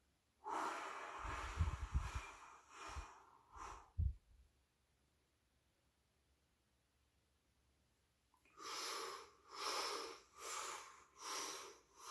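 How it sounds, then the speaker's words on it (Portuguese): Slow, controlled breathing during a calming exercise: a few audible inhales and snorting breaths, a long held silence, then a series of steady, even exhales, close and fairly quiet. "Eu quero mudar o padrão de respiração para segura um tempo, vai soltando devagar."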